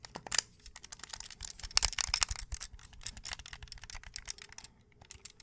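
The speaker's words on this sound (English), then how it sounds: "I'm happy to push these buttons and listen to these sounds." Buttons on a game console controller clicked and pressed in a quick, irregular run of close, crisp taps, some bursts denser than others, with no voice.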